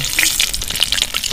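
Dried chillies, bay leaves and panch phoron hit hot oil and sizzle, a bright, loud, crackling hiss with rapid popping spits, close up and continuous throughout the short moment.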